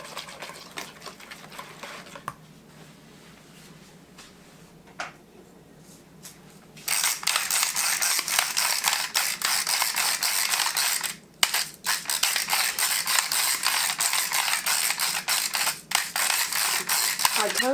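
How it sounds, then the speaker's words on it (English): Ratchet pepper grinder grinding over a squash casserole: after a quiet start, dense continuous cranking and crunching, near and loud, with a couple of brief pauses. "I told y'all that Sir La Table didn't have these ratchet grinders in stock anymore."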